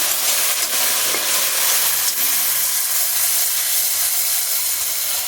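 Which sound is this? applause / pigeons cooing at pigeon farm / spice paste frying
spice paste frying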